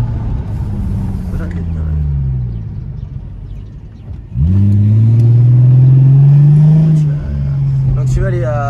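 A Mercedes C-Class C320 V6 on a road drive, heard from inside with the window open: a steady engine drone that swells sharply into a loud, rising acceleration before settling back to a cruising hum.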